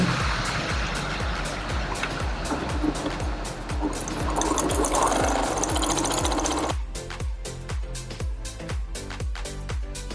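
A sewing machine stitches the side seams of a large fabric bag, a fast steady rhythmic clatter close by that continues evenly before easing slightly in the final seconds.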